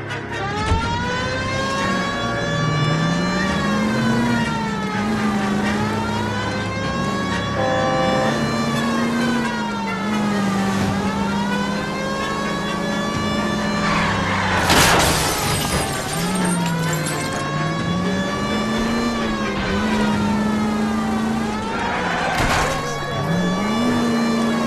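A car drives with its siren on in the video game L.A. Noire: a loud, continuous rising-and-falling wail over a steady engine drone, with a sharp crash midway.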